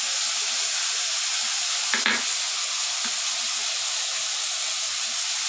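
A paste of turmeric, chili and cumin fries in a pan with a steady, even sizzle and hiss, briefly broken by a couple of scraping stirs near the middle.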